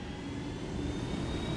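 A helicopter in the Ghost Recon video game flies along with a faint, steady engine drone and continuous rushing hum, with no voices over it.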